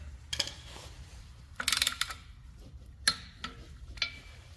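A torque wrench tightens bolts fastening a flywheel to an ISR Performance LS-to-CD adapter plate, with a few sharp metallic clicks and ratcheting ticks spaced over several seconds, close but fairly quiet in an otherwise still space.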